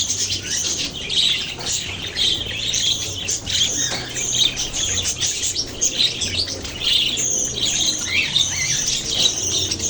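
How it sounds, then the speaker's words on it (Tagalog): Pet parakeets and lovebirds in a cage chirp and squawk continuously and close by, with intermittent wing flapping and fluttering among the busy calls. "tuwa yung mga alaga kong parakeets, lovebirds"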